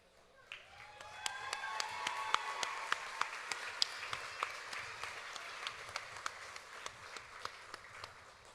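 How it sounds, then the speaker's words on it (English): Pageant crowd at the Choctaw Nation princess event clapping for the Little Miss second runner-up, applause that swells in after a quiet start, with distinct sharp claps standing out over a steady ovation. "Let's give another round of applause."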